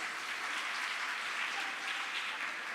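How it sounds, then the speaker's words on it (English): An audience at a school annual day celebration applauds a guest, a soft, steady patter of clapping that sounds fairly distant and continues without a break. "Let's give him a big round of applause."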